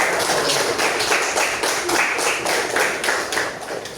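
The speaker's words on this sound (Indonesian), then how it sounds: "Oke, tepuk tangan untuk kelompok." Classroom applause for a student group, a steady patter of many hands clapping together at close range, filling the room at an even level with no talk over it.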